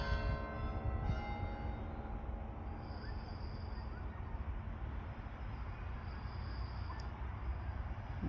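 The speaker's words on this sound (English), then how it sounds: "we're here for the church bells" A church bell's ringing tone fades away at St Mary's Church, followed by outdoor ambience with a low steady rumble.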